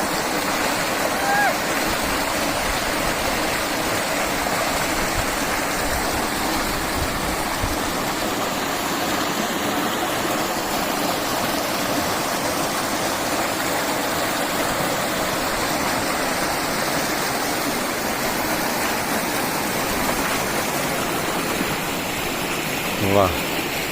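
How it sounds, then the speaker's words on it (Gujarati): A flowing stream rushes steadily and evenly nearby, a dense, unbroken wash of running water that holds constant throughout, with only a brief knock near the end. "ખળ વહેતા ઝરણાના નાદ આપ જોઈ રહ્યા છો."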